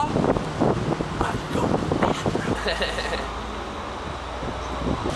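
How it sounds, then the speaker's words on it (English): Wind buffets the microphone outdoors with steady low rumble and gusts, while a person talks over it during the first half. "It's really windy"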